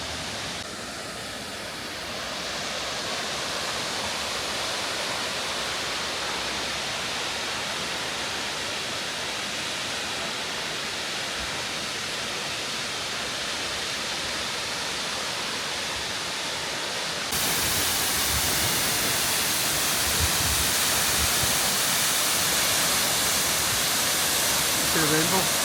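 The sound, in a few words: waterfall roaring, Norway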